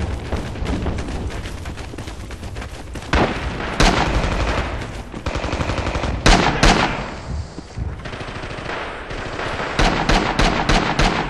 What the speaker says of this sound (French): le mitrailleur que j'ai, c'est le bar, c'est considéré comme une mitrailleuse lourde en fait ça